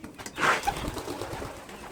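Pigeons at a breeding loft cooing close by, one soft throaty coo rising then fading, with faint rustling after.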